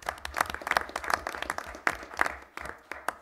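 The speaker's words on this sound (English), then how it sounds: "So we'll clap for Bob." Brief applause from an audience at a school board meeting honoring a nominee, with scattered claps in uneven bursts rather than a full ovation, moderately quiet and fading in and out.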